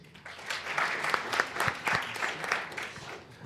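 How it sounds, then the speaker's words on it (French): A hackathon audience gives a dense round of applause, many hands clapping together for a few seconds and swelling in the middle before fading slightly, with no one speaking over it. "D'ailleurs, vous pouvez l'applaudir"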